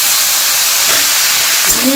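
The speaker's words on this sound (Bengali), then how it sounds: "আর আমি এই পরিমাণে এক বাটি কড়াইশুটি দিয়ে দিই" A bowl of green peas goes into a pan of frying beans, capsicum and other vegetables, giving a loud, steady sizzling hiss up close with a few faint clinks.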